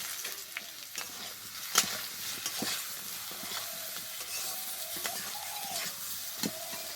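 Turmeric, salt, cumin-coriander powder and dried chilli powder are sautéed in a pan with a quiet, steady sizzle, punctuated by regular scraping and tapping strokes of a spatula.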